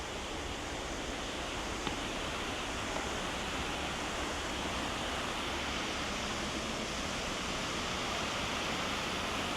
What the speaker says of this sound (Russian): Какой фонтан красивый.